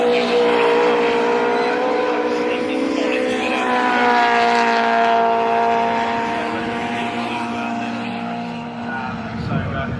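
Mini racing cars roar around the Brands Hatch circuit at a 2025 race festival, engines droning loudly and steadily as they pass, with a race commentator talking continuously over the noise.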